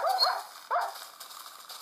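Whimpering dog from a video game, two short rising whines a moment apart, fairly quiet against a low electronic background, with no talking.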